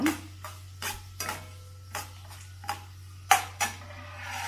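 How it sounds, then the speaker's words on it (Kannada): Avarekalu upma being prepared in Karnataka style, with chana dal frying as a spoon stirs the pan: a series of distinct scraping strokes against the pot, repeated about every half second, over a steady low hum with no talk. "ಇವು ಸ್ವಲ್ಪ ಈ ಥರ ಕೈ ಆಡಿಸಿ ಚೆನ್ನಾಗಿ ಫ್ರೈ ಆಗಲಿ"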